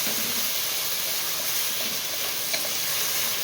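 Tomatoes with salt sautéing in a pan, giving a steady, loud, close sizzle and hiss with faint stirring throughout.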